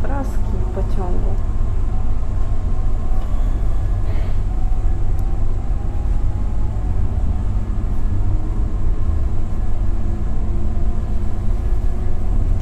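Steady rumble of a new Impuls 2 SKM commuter train in Warsaw, heard from inside the moving carriage, a loud continuous low-frequency roar with faint rattles throughout and no clear talk.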